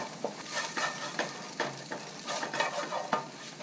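Eggs fry and are stirred in an oiled pan for fried rice with corn, carrots and ham: a steady close sizzle broken by rhythmic scraping strokes of the utensil, with no voices.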